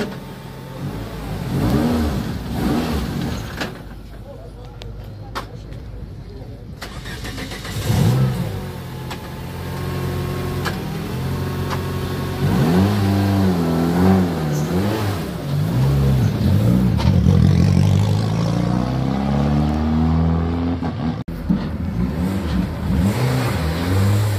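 A Renault Clio rally car at the Rallye des Ardennes 2023 stage, its mid-pitched engine revving hard and rising through repeated gear changes, loud and close, alone with no talk.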